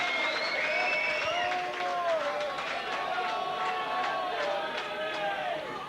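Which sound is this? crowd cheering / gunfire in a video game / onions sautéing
crowd cheering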